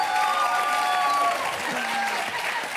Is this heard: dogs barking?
no